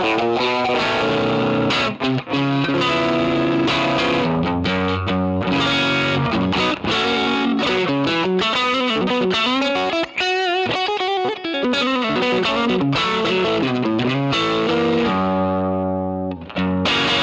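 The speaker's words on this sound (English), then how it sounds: "that delay is very subtle. The reverb is very subtle." Distorted electric guitar plays a riff of chords and single notes, with a light delay and reverb trailing each phrase, loud and continuous.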